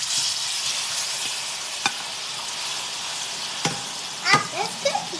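Banana frying in hot cooking oil in a home kitchen, a steady broadband sizzle running throughout with a few sharp pops and spatters, and brief voices briefly audible toward the end.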